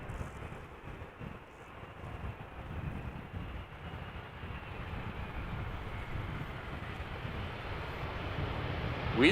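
A KLM Boeing 787-10 Dreamliner, a three-year-old jet arriving from Delhi, lands at Amsterdam Schiphol with a broad, steady jet roar and rushing wind that slowly swells over the whole stretch. No one speaks.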